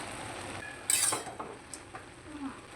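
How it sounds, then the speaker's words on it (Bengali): A lid lifted off a pot of boiling bottle gourd in a home kitchen, giving one bright metallic clink followed by a few softer rattles and scrapes, close and fairly quiet. "ঢাকাটা খুলে নেব।"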